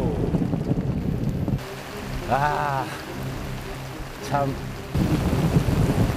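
Thunder and rain crash around a night-time carp fishing spot, with broad rumbling noise that drops away for a few seconds while someone briefly speaks, then surges back loud.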